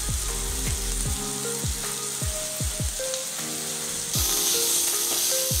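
Gongura chicken sizzling in a pan as chilli powder and salt are stirred in, with repeated spoon knocks and scrapes at an uneven rhythm over a constant close hiss of frying.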